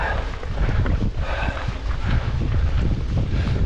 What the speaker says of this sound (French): Le vent dans le nez